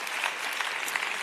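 A church congregation claps together in a short, steady burst of applause, moderately loud and even, with no speech over it.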